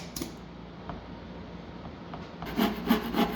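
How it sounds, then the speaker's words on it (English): Wooden guitar neck for a carbon series guitar being shaped with a file, a close, steady scraping rasp that turns into a few louder rhythmic strokes near the end. "Now we get some more carving and filing action."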